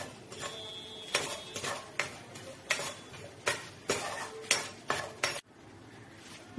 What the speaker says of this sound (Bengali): এই মশলাগুলো অ্যাড করলাম, 2খানা এলাচ, দারচিনি, 2টো লবঙ্গ এবং একটি তেজপাতা। এটাকে একটু ভালো করে ভেজে নেব।